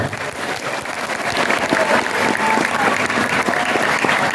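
Applause from a gathered audience at a school Isra Miraj religious gathering, a loud, sustained wash of clapping that builds slightly and holds steady throughout, with faint crowd murmur beneath.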